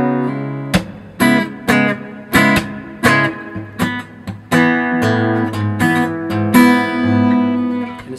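Acoustic guitar playing a song slowly, live acoustic style, with distinct plucked and strummed chord attacks ringing out one after another at an unhurried pace, close and clear with no voices.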